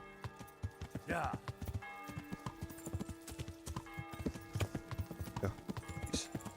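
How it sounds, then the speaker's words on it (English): Horses clip-clopping in the medieval video game Kingdom Come: Deliverance, with a steady run of hoof knocks, close and clear, plus a brief whinny and background town ambience; a voice talks over part of it. "Horses all over the place."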